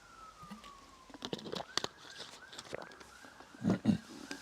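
A distant non-police siren wails with rising and falling sweeps, faint and steady, while louder thumps and clatter, including a creaking chair, come and go nearby.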